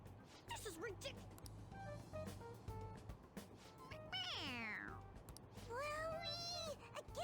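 A stuffed toy cat in Persona 5 Royal lets out a couple of high, swooping meows, with the game's background music and ambience underneath.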